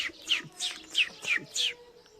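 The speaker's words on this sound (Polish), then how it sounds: "Ptaszki ćwierkają." Small birds chirp outdoors in a quick run of five or six bright, sharp calls, close and clear, with no voices.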